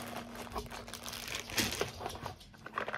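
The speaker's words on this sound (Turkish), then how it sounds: "Şimdi kargomu açacağım." A delivered parcel containing nail polish is torn open at home, with continuous close crinkling and rustling of plastic packaging and a few sharper crunches and rips along the way.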